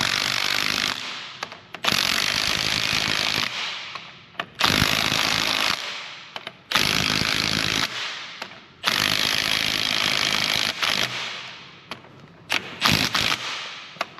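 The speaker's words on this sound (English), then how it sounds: "You hear that torque wrench?" A torque wrench works on a John Deere 850JR bulldozer, giving loud, repeated bursts of harsh mechanical rattling broken by brief gaps, close up and with no talk over it.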